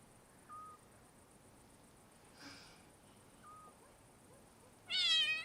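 A cat gives a few brief, soft meows at a distance against quiet background hiss, ending with a louder, longer cry at the close.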